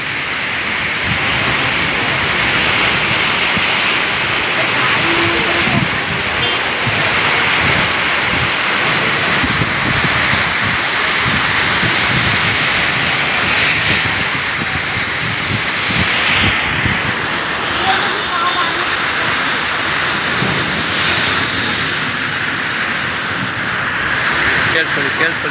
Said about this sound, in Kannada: ಭಯಂಕರವಾದಂಥ ಗುಡುಗು, ಸಿಡಿಲು ಸಹಿತ ಮಳೆ ವೀಕ್ಷಕರೇ